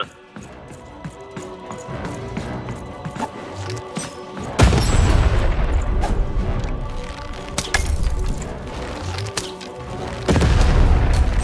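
Cannon fire in the video game Lost in Random, with heavy booming blasts and crashing impacts, one big burst near the middle and another at the end, over a busy game soundscape.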